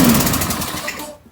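A small engine revs high and steady close by, its throttle set too fast, with a rapid buzzing drone that fades out near the end.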